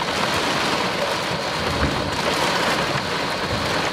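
Heavy rain pouring during a severe thunderstorm in Dublin, Indiana, with a dense continuous roar of rainfall and thunder rumbling underneath, loud and close, no voices.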